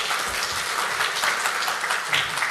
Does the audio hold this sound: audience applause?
yes